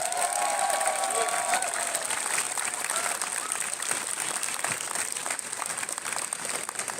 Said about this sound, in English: So how about a round of applause for the organisers?